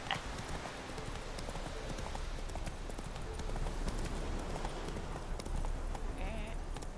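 Geralt's horse Roach from The Witcher 3 trots steadily, its hooves clip-clopping continuously for several seconds at close range. The footfalls sit over dense game ambience, and someone talks over part of it.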